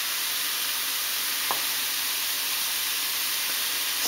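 Onions and garlic sizzle in a pan for marinara sauce, a steady, even frying hiss throughout with one brief tap of a utensil partway through.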